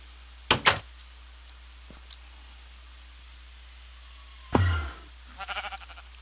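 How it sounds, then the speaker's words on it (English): Sheep in a modded Minecraft world bleat in a quick pair of close, moderately loud calls, then a quiet pause and a second louder burst that trails into a fluttering tail. "Ah, there's a sheep."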